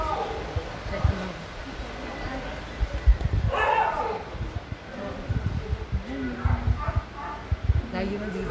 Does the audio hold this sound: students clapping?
no